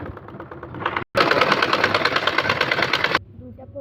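A sewing machine stitches a neck strip onto a dress, running loud and close in a fast, even chattering burst of about two seconds, with a voice talking just before it starts.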